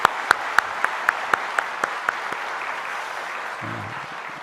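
In a church service, a congregation claps, opening with about ten sharp, evenly spaced claps that dissolve into a soft, diffuse patter of applause, and a low voice briefly sounds near the end.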